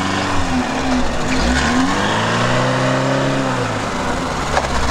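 Lada Niva in low-range first gear straining on a snowy uphill, engine revving continuously with wheels spinning and whining, steady and close throughout.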